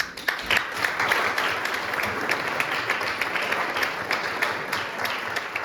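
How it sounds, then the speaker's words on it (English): A church congregation standing and clapping to honor mothers at a Mother's Day service: steady, dense applause from many hands, moderately loud and continuous throughout. "Let's give them claps."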